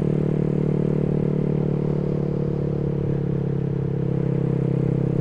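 A steady Triumph Daytona motorcycle engine drones throughout at a constant, fairly loud level, with a low rumble and road noise while riding.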